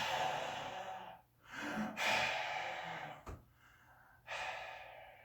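A preacher in a Sunday sermon imitates the labored breathing of a dying person, with drawn-out raspy breaths, gasps and a sharp snort separated by short silences, close and fairly quiet.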